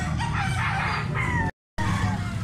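A yellow-tailed farm rooster gives a loud, near crow lasting over a second, cut by a brief dropout, then continues amid farmyard noise.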